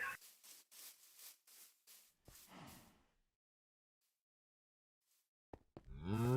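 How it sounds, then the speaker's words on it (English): Cows in a video game give a few short, close moos and snorts in the first half, followed by near silence and a brief burst of sound at the end. "there's cows that spawned in it somehow"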